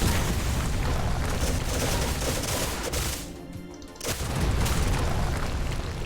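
A stun attack in the Age of Wonders: Planetfall strategy game bursts as a dense, loud roar of crackling booms, briefly dipping into a hollow lull midway before the barrage resumes, filling the clip without any talk.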